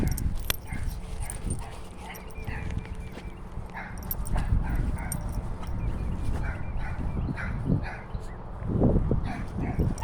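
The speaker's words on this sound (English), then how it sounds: "Because the dog is barking and..." Dog barking indoors in repeated sharp yips and whimpers, scattered through the whole stretch at moderate distance, with some knocking and movement around it.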